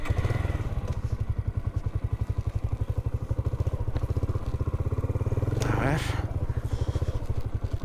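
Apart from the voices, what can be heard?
motorcycle being turned around and pushed on a mountain dirt road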